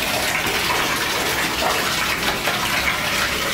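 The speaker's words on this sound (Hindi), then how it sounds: "मैं पहले पानी डाल दे ना" Water is poured during a shampoo experiment, producing a loud, steady gushing splash that runs unbroken throughout with no talking.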